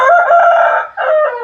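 A Kaki breed fighting rooster at a farm in Machilipatnam crows loudly and close, one long strained call followed after a brief dip by a second shorter one.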